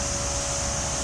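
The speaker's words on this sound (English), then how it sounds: "But these 2 compressors, we alternate them monthly." Air compressor running at a sewer treatment plant, a loud, steady mechanical drone with a constant whine and broadband rush that never varies, heard close with no talking.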